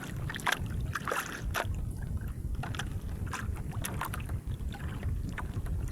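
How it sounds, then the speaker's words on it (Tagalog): Oars dip in calm sea water as an engineless fishing boat is paddled out from shore. Crisp splashes and strokes repeat in an irregular rhythm over a low rumble of wind buffeting the microphone. "Nagsagwan na kami dito papunta sa laot."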